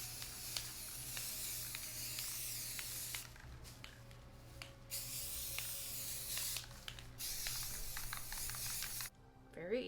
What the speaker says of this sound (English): I spray painted them matte black, and I'll insert some footage of me spray painting them for you guys